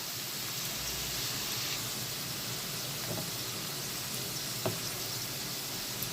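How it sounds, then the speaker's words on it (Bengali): Potatoes frying in hot cooking oil, a steady soft sizzle with faint crackle heard close and continuous, with no talking over it. "ভালো করে ভাজা ভাজা করে নেব এই তেলের সাথে আলুগুলোকে"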